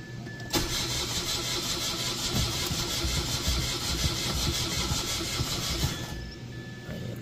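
A Mitsubishi Mirage engine fresh from a top overhaul, with a previous crankshaft sensor fault, cranks briefly and then fires into a steady, close idle that runs evenly for several seconds before settling lower.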